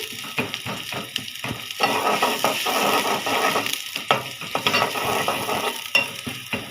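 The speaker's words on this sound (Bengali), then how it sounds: "পেঁয়াজ দিয়ে বাগা দিব আমি" Onions fry in oil for a lentil dal tempering. Close, busy sizzling is broken by frequent scraping and tapping from a spoon stirring against the pan.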